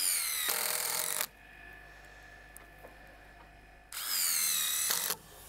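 A power drill drives screws into the wood of a log cabin roof in two loud whirring bursts of about a second each, separated by a quiet pause with faint handling noise.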